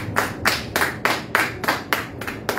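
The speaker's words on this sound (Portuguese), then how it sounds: "Aplauda, Senhor" A church congregation claps together in a steady rhythm, about five claps per second, loud and close, with no talking.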